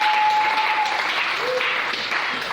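A church congregation applauds the Lord during a French Sunday sermon, steady loud clapping filling the room throughout, with a faint tone lingering underneath.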